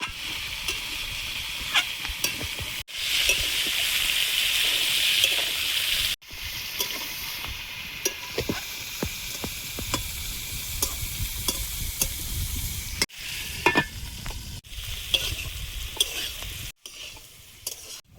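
Round slices of bitter gourd and potato fry in a pan on a home stove, a loud continuous sizzle under frequent clattering stirs, with a few short breaks in the sound.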